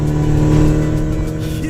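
A car engine in an Unreal Engine vehicle demo, a loud, steady, close drone that rises and then eases slightly over under two seconds, with no voices.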